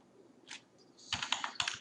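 Keys clack on a computer keyboard in short bursts, a lone tap followed by a quick cluster of crisp keystrokes, close and fairly quiet.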